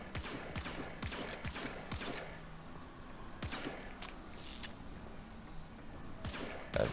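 Bursts of weapon gunfire in the video game Warframe, sharp repeated shots in quick clusters separated by short pauses, fairly close and loud.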